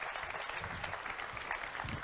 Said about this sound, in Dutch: graag een daverend applaus voor Rob Jetten